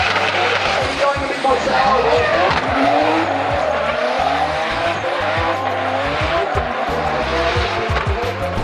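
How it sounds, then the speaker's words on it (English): Drift car at practice during the Drift Masters Riga 2024 event, its engine roaring and tires squealing in a continuous loud pass, with voices audible in the background. "David Spossop heads back out for practice"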